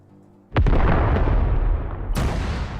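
A mortar round fires in Arma 3 with a sudden loud boom that rolls on into a long rumbling tail, then a second sharp blast cuts through the fading echo.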